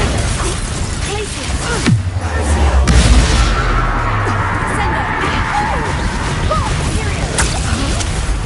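An explosion from the Confringo blasting spell bursts loudly near the start, followed by crashing debris and rumbling noise that fades into a noisy, busy background.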